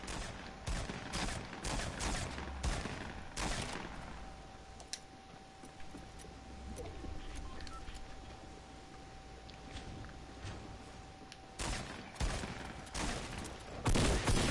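A rapid burst of video game gunfire cracks in quick succession early on, then a long quieter stretch, then more shots near the end, with no one talking.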